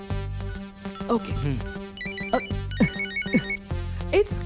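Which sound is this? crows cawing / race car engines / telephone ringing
telephone ringing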